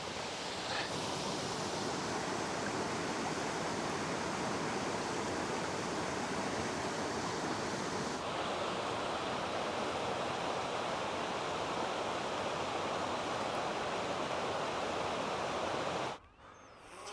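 A secluded waterfall near Belfast pours in a steady, loud broadband rush that fills nearly the whole stretch, then cuts off abruptly near the end.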